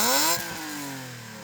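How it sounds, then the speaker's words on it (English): A BMW E36 M3 engine revs high and then drops off, the pitch falling smoothly as the revs settle. The sound is loud and close, with no voices over it. "So we're going to rev up these cars' engines and see what they sound like."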